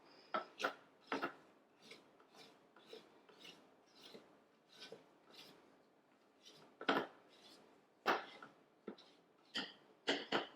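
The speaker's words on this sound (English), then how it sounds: "going to scrape down the sides, make sure everything gets all mixed in well" A spatula scrapes around the sides of a Thermomix mixing bowl while making Boston cream pie, giving a series of quiet rasping, rubbing strokes in an irregular rhythm, close and alone without talk.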